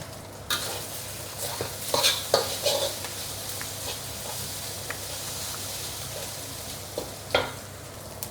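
Malaysian mee goreng noodles stir-fried in a wok give a low, continuous sizzle, with the scrape and clank of a metal spatula against the pan in irregular bursts.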